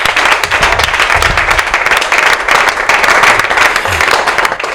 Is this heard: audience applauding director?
yes